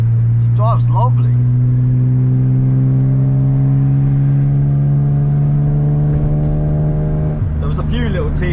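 A BMW E30 car driving with a steady droning engine note that climbs gradually in pitch as it accelerates, loud and close inside the cabin, with brief bits of voice over it.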